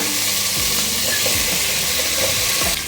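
Minced mutton keema hits a hot pan of oil-fried fenugreek leaves, giving a loud continuous sizzle and hiss. A few scraping stirs of a spoon are heard close up.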